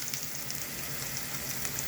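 Onions frying in a pan while cooking Bengali rohu fish posto, a steady close sizzle and crackle with constant fine hiss and no talk.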